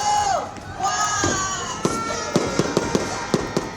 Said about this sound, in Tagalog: Natapos naman sa engrande fireworks display ang New Year's countdown sa BGC.